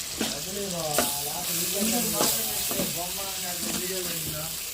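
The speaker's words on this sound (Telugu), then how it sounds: "ఇంకా పచ్చివాసన పోయేటట్టుగా తిప్పుకున్నాం కదండి" Ginger-garlic paste and coriander cooking with tomatoes in a frying pan: a steady sizzle under repeated stirring strokes about once a second, with a person talking over it throughout.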